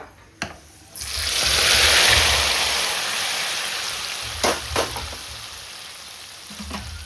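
A sudden loud sizzle bursts out as hot tempering hits kadhi pakora curry, then slowly settles into a steady crackling hiss with a few clinks.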